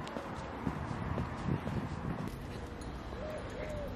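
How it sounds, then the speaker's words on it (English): Horse hooves clip-clop on a street in a small Spanish town, a moderately near, uneven series of knocks partly blended with outdoor background noise and faint bird calls. "Guys, look, there's a horse, so random."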